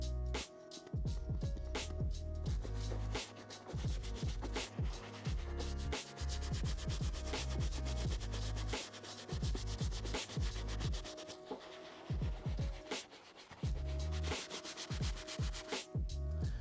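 A soft bristle brush scrubs a Jordan 4 nubuck sneaker with quick, close, rhythmic rubbing strokes, each pass a crisp scratchy swish, pausing briefly before resuming.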